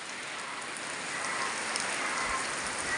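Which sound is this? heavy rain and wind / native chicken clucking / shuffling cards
heavy rain and wind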